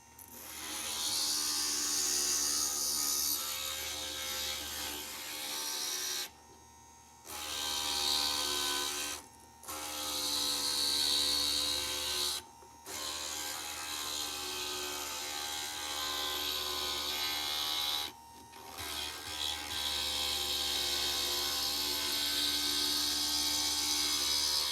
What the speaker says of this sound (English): we are done with the grinding